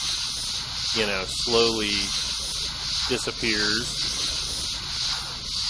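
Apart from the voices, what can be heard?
firefighter spraying water on a fire in video game Flashing Lights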